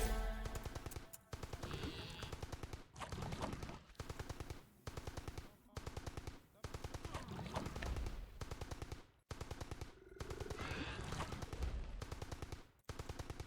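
Tommy gun fire in the Entropia Universe video game: long sustained rapid bursts of automatic shots, loud and close, broken by brief pauses between strings of rounds.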